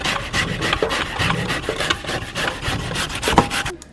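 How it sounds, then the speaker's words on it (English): Fresh ginger is rasped against a grater in quick, continuous scraping strokes, close and fairly loud, ending abruptly. "we're gonna grate some ginger here"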